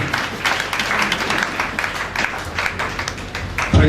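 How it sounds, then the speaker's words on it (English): Church congregation at a prophetic service clapping together, loud dense applause filling the room steadily with a hard thump right at the end. "Clap for Jesus."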